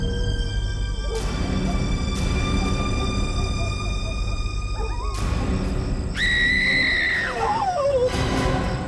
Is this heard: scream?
yes